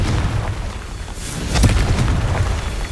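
A Confringo fire spell explodes in the video game Hogwarts Legacy, a single low boom swelling about midway over a steady rumbling game backdrop, with no talk.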